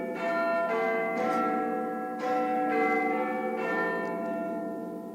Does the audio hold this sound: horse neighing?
no